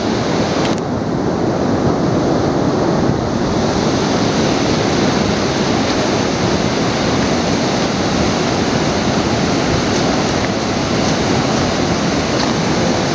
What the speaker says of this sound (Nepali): खोलाले कटान गर्ने क्रम जारी छ।